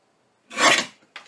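A paper trimmer slices a journal page in one quick rasping swipe, close and crisp in a quiet room, followed by a brief second scrape.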